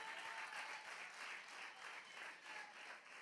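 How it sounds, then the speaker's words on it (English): Church congregation clapping in praise during a sermon, a sustained, even patter of many hands, fairly distant and soft, with no voices over it. "clap your hand and give God a praise"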